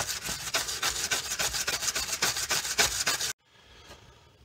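Steel clutch plates from a 1965 Suzuki K11 get scrubbed by hand, a close, loud, rhythmic back-and-forth rasping about three strokes per second that stops abruptly, leaving faint room noise.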